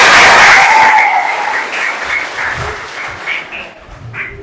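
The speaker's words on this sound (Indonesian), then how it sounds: "tepuk tangan." Audience applause at the closing ceremony of a village enterprise (BUM Desa) training, a sustained broadband wash of clapping that is loudest at the start and gradually thins and fades over several seconds.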